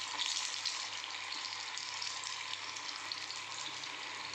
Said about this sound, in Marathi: आपण आता डीप फ्राय करून घेऊया